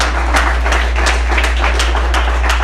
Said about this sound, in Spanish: Si va a aplaudir, aplauda con ganas en el nombre de Jesús